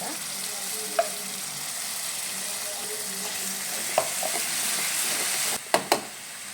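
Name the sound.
ground tomato added to frying soybean masala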